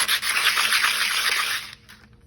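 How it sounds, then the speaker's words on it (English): Sand cloth scrubbing the edges of a metal chainsaw muffler deflector, a close, steady scratchy rubbing that stops after about two seconds. "Just gonna scuff all the edges, some sand cloth, get them clean."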